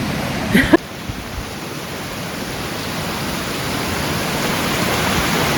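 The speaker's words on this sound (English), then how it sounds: "We've now come to the waterfall, which hopefully is at the top." A steady, full rush of falling water roars continuously, preceded by a brief clatter of handling noise at the start.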